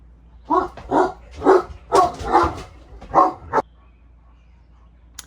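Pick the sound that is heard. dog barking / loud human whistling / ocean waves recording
dog barking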